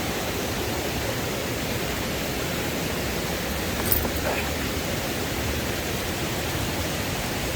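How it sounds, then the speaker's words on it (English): A waterfall roars in a steady, dense rush of falling water, loud and close, unbroken for the whole stretch with no voices. "now I've got to cross the second part of the waterfall"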